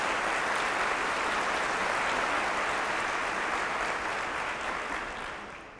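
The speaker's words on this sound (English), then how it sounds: "Let's give him a round of applause this morning" An audience at a 2013 State of the District address claps steadily, a dense even wash of applause that holds for several seconds before tapering off at the close.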